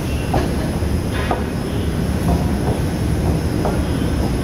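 A train rolls along rails, a loud steady rumble with repeated rhythmic wheel clacks and faint squeals, heard close and continuous throughout, with no talking.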